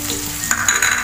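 Chopped onion and ginger sizzle in a hot pan, a close, steady frying hiss for about a second with no voices.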